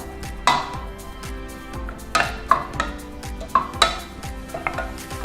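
Shrimp paste and green curry paste being stir-fried in a pan for Thai green chicken curry, with repeated close scraping, tapping utensil strikes against metal, and a soft sizzle underneath.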